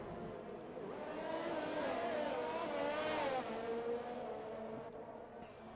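A McLaren F1 car racing in an F1 video game at Russia screams past with a high engine whine that rises and falls, building to a peak mid-way, joined by other cars at a moderate distance.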